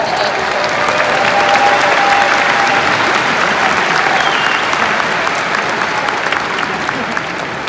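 A large crowd applauding at a university graduation ceremony, dense and sustained clapping that fills a big hall at an even loudness for several seconds.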